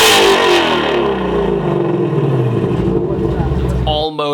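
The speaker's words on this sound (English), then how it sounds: "Ford let me film it get revved up when it was still a prototype last year" A prototype Ford Mustang Shelby GT350R with its high-revving naturally aspirated engine climbs loud and close through the revs, with speech-like tonal layers over it, then drops off sharply at the end.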